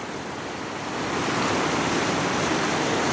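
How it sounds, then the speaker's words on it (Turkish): Creek water rushes in a steady, dense wash of broadband noise that swells slightly louder after a second and then holds constant. "Böyle işte deremiz. Dere boyu ben biraz yürüyorum böyle. Su sesi çok hoş oluyor."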